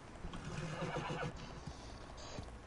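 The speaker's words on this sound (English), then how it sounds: "Look how small Matt's horse is." A horse in a video game whinnies, a shrill wavering neigh near the start followed by a few soft hoof-like thuds, heard fairly quietly with no talk over it.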